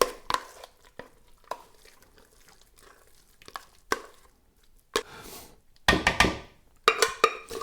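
A large bowl of Danish rice porridge for risalamande, with whipped cream being folded in: a series of soft spoon scrapes and clinks against the bowl, sparse at first, then denser, louder bursts of mixing near the end.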